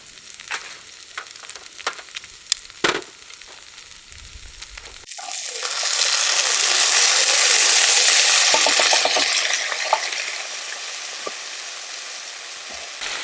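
Vegetables sizzling in a pan on a wood stove at a camp cooking setup, quiet clicks and scrapes at first, then a loud steady frying hiss that swells and slowly fades, with a few light taps.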